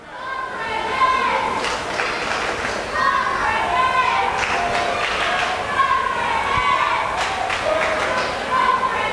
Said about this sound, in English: Crowd making a chant over there.